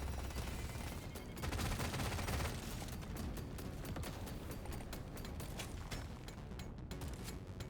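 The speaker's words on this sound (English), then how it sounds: "It'll just keep firing in whatever direction it started firing in." An autocannon in Deep Rock Galactic Survivor fires steadily in fast repeating thumps, mixed with dense game effects at a moderate level and no talk over it.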